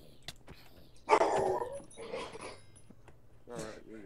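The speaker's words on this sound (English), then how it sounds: "my dog is barking" A pet dog barks a few times in the background of a Minecraft gaming session, with short yips and one louder bark mixed among voices and game sounds.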